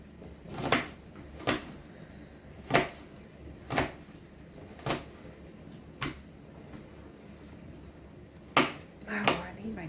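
Diced onions chopped with a sharp knife: about nine distinct knife knocks on a cutting board land at irregular intervals, close and crisp, over a quiet room with faint voice in the background.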